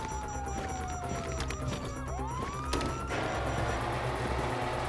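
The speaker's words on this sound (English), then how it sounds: "You hear that? Sirens!" Police car sirens wailing in a chaotic street scene, one rising and falling tone sweeping down then up, with a crash-like burst mid-way and traffic rumble behind.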